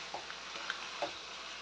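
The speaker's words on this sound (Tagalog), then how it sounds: "Haluin po natin para po yung ating sardinas ay mapailalim." Sardines frying in a pan while being stirred, a soft continuous sizzle with a few light scrapes and clinks of a utensil, fairly quiet and brief, no talking.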